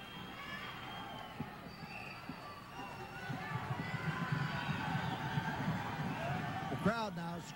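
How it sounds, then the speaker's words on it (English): Wrestling arena crowd in Houston, 1979, screaming and shouting encouragement to Jimmy Snuka as he is caught in a hold, a sustained roar of many voices with commentary talk running over it. "The crowd now screaming to Jimmy Snuka, trying to encourage him to manipulate his way out of this hold"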